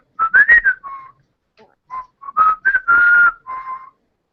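A person whistles a cheerful tune in a string of clear, close, bright notes, with short pauses between phrases and no talking.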